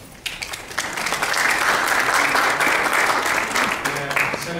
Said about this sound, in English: Feel free to applaud at this point.